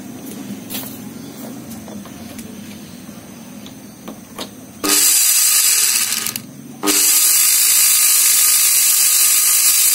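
A repaired electric motor armature switched on at 220 volts spins up with a loud, steady high-pitched whir after faint ticking, briefly drops out, then resumes at full speed.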